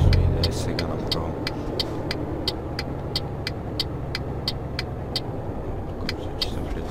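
A truck engine in Euro Truck Simulator drones steadily at cruising speed, with a regular ticking like a turn indicator repeating over it throughout.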